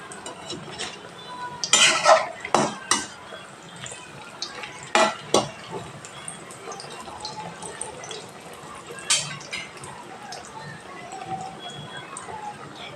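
Oil sizzles quietly in a pan while coconut chops are dropped in one at a time, with sharp metallic clinks and stirring sounds over the low frying hiss.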